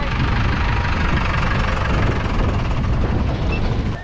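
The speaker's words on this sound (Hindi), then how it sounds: "यहाँ पे आप ट्रैक्टर आ गया है, बहुत सारी आवाज़ आएगी आपको" A tractor engine running close by on a road near a waterfall in Igatpuri, a loud, rough, continuous chugging rumble that fills the whole stretch without pause.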